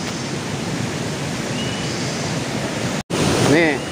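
A river flows steadily past trees near a waterfall, a dense unbroken rush that fills the clip, cut off by a brief dropout near the end before it resumes.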